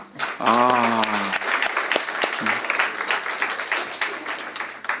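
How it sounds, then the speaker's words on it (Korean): Congregation at a Wednesday church worship service breaks into applause, a dense wash of many hands clapping that swells after a brief sung or spoken voice and then continues steadily, fairly loud and close. "우리 축복의 박수 한번 해줘요."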